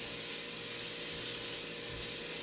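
Onions sizzling in a pan as they are stirred while cooking for potato soup, a steady, soft hiss with no voices.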